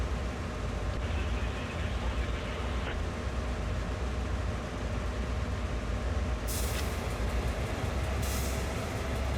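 A loaded freight train on Sand Patch Grade in Train Sim World 2 rumbles steadily as it stretches under load, a continuous heavy rolling roar with a couple of hissing air-brake bursts late on.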